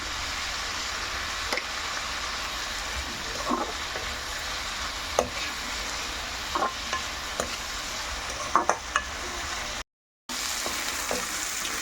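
Drumstick and egg curry masala frying in a pan, a constant close sizzle with intermittent scrapes and taps of a spoon stirring, no talking.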